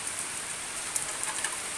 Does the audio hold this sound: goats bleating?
no